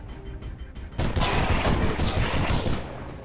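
A bolt gun fires in an XCOM 2 Warhammer 40K mod: after a quiet lead-in, a sudden loud burst of rapid, heavy automatic shots rattles on for about two seconds before tailing off.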